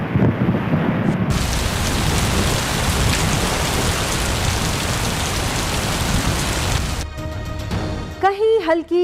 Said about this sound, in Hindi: कहीं हल्की कहीं तेज बारिश ने रंग जमा दिया।